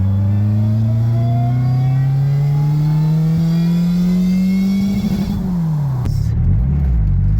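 A JRSC supercharged Del Sol engine climbs in a long, loud, steady rev toward its rev limit, the pitch rising evenly before cutting back and falling away as it drops off the limiter near the end.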